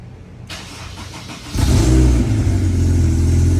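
A Honda S2000 engine with its O2 sensor removed idles roughly, then revs up sharply to a loud, sustained roar close by.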